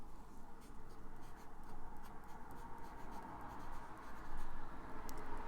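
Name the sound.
Platinum Curidas fountain pen medium steel nib writing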